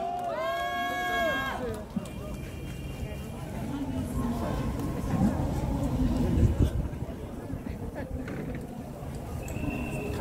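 Audience applause at a Korean patriotic civic gathering as a national association chairman is welcomed on a cold day. Dense, steady crowd clapping follows a brief tonal opening, with murmuring voices mixed in throughout.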